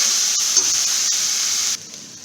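Curry paste sautéing with vegetables in a pan gives off a loud, steady sizzle, broken by a few light stirring taps, then drops abruptly to a quieter hiss near the end.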